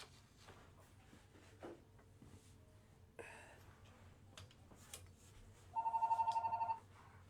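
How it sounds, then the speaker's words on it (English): A house telephone rings in a quiet room, a single electronic ring burst of about a second near the end, fairly clear above faint room noise and scattered small clicks. "Is your phone Dane? Yeah, like the house phone."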